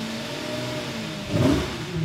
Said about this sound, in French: Est-ce que je mets quelques coups de gaz comme ça pour...